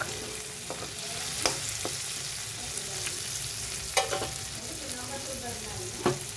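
Okra sizzles steadily in a pan, a continuous frying hiss with occasional scraping stir strokes and light metallic taps standing out, no one talking over it.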